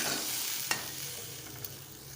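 Fish curry sizzles in a pan after a little water goes in, giving a steady hiss with two short scraping clicks from stirring.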